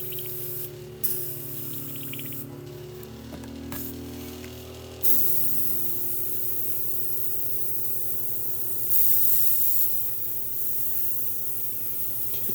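An airbrush spraying Imperial Fist yellow paint gives a faint continuous hiss over a steady low hum of a compressor, with brief bursts and pauses as the airflow starts and stops.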